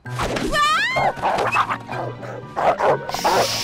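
A dog barks and yips in short bursts, with a whimpering, rising whine mixed in among the barks, up close and loud.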